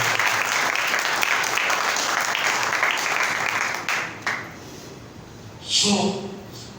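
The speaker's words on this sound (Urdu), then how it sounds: "زوردار تالیاں بات کیے گیا۔" Loud, sustained clapping from a church congregation at an Urdu-language sermon, a thick continuous roar that fades out near the end before a voice briefly speaks.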